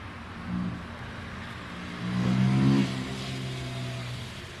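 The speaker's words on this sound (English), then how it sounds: "So much noise from traffic." Passing road traffic outdoors, with a car engine accelerating and revving by at mid distance, swelling loudly in the middle before fading to a steady rumble.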